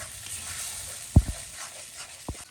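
Turmeric spice paste frying in oil gives a soft, steady sizzle up close, broken by a couple of brief knocks of a spoon stirring against the pan, with no voices.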